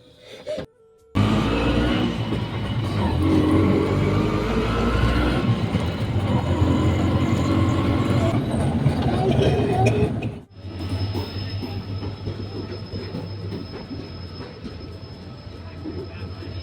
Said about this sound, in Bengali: ট্রেনে উঠে পড়লাম